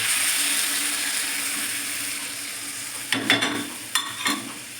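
Dried red chili paste water poured into frying potatoes for a hill-style aloo dum, with a steady sizzle giving way to a few sharp splashing bursts near the end.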